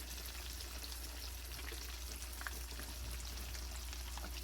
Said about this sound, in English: After it's in the grease like this, it ought to be crisping up.